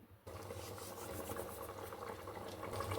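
Mutton head curry simmering in a pot on the stove, a steady bubbling hiss that carries on unbroken for a few seconds after a brief quieter start.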